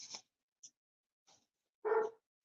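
A dog barks outdoors during a windstorm in a Mexican neighborhood, a few faint, distant yips spaced apart and then one louder bark near the end.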